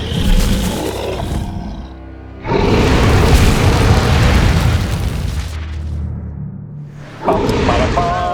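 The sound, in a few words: explosions blowing up entranceways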